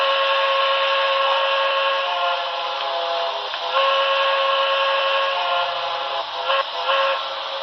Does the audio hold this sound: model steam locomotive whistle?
yes